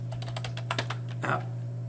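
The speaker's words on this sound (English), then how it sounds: "So I'm going to just start typing that." Quick bursts of keystrokes on a computer keyboard, a run of rapid clicks followed by a few separate taps over a steady background hum.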